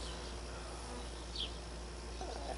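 Bees drink at a garden birdbath in hot weather, giving a steady, soft insect buzz close by and continuing without pause, with a faint brief higher whine partway through and no talking.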